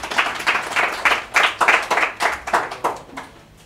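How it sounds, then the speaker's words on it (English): Clapping for Bebe Cool at an event in Uganda comes as a rhythmic run of about a dozen loud, evenly spaced claps from the audience, fading slightly toward the end. "Can you clap for Bebe Cool?"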